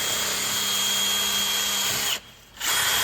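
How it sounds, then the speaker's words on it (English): A power tool, likely a drill with a wire brush, grinds steadily as it scrubs rust from the front wheel hub of a 2004-2011 Ford Focus, running loud and continuous before stopping briefly near the end and starting again. "I'm just gonna go ahead and clean all the rust off around here."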